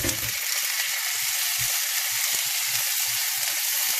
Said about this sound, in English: The reason why we stir fry the lentil with the garlic and onions, it makes it smell really nice when we do that.